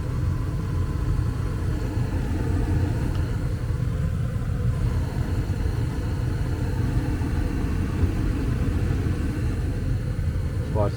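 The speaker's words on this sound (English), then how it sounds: "Watch the flame when the blower starts up." A furnace burner running with a misaligned burner assembly, giving a steady low roar and rumble throughout as the blower starts up, with a person talking over it.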